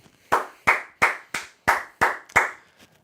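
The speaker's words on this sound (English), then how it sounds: "But I'm going to clap it up." One person claps hands slowly and deliberately, about seven sharp, loud, close claps spaced roughly a third of a second apart, alone in a quiet room.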